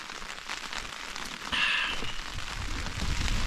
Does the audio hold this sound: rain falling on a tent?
yes